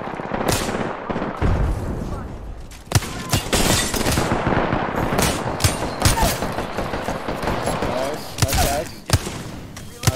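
Rapid gunfire from an Apex Legends Season 2 ranked match, dense bursts and sharp single cracks filling the scene, with players talking over the shooting.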